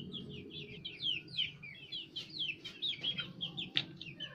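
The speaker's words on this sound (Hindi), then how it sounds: "आपको चूज़ों की आवाज़ भी आ रही होगी" Young chicks in a cage peep constantly, with quick, high, overlapping chirps close by over a low background murmur.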